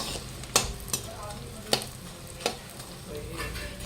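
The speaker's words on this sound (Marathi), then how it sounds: "इथे आपण डिंक तळून घेऊया. छान फुलेपर्यंत तळून घ्यायचं त्याला" Edible gum pieces fry in cow's ghee, a soft continuous sizzle and bubbling broken by several sharp scraping clinks of a spoon stirring in the pan, up close.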